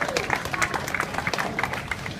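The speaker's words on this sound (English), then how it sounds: "So give them a big round of applause for being here on such short notice." Audience applause at a political campaign event, steady clapping from a crowd, moderately loud and close, with a few brief voices mixed in.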